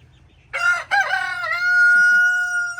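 A rooster crows once, loud and close, a long drawn-out call over a faint low hum, with a couple of soft clucks near the end.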